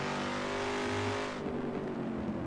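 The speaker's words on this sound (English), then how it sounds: "I'm driving this car. Probably not the best of ideas." A muscle car engine on a hill climb course holds a steady, loud drone that eases slightly partway through as the throttle is managed, with no talking over it.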